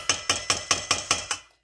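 Seven evenly spaced metallic clinks, bright and sharp, as a spoon is pulled from among utensils, close by with no talk.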